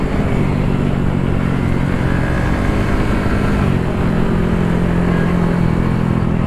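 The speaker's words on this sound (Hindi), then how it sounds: "आराम से ही भगाना है बाइक को।" A motorcycle rides along a road at an easy pace on unfamiliar tyres, a steady close engine drone with road and wind rush and no talk.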